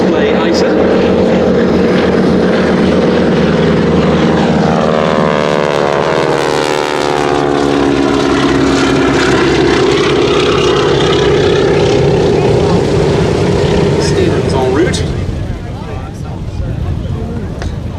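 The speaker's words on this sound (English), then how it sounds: "on B-17 Sally B, now taxiing down the main taxiway in front of us" B-17 Sally B, a four-engine propeller bomber, taxiing down the main taxiway at the Duxford Air Festival 2018: a loud, close, steady piston-engine drone with shifting pitch as it passes, while a voice talks over it.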